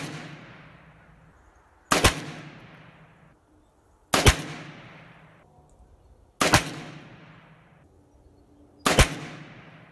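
A Primary Arms FM9 pistol-caliber carbine fires 115 grain rounds outdoors. Four sharp, loud shots come roughly two seconds apart, each followed by a decaying echo.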